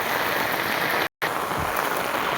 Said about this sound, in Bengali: এত বৃষ্টি, বাপ রে বাপ, আজকে বেজান জবরদস্ত বৃষ্টি দিচ্ছে